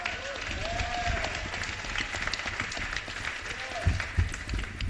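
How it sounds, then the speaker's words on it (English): Audience at a people's assembly panel on challenging white supremacy applauding panelists, a fairly quiet, steady patter of many hands clapping in a large room, with some murmuring voices beneath. "Give a round of applause."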